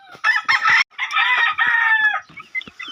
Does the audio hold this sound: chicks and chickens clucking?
yes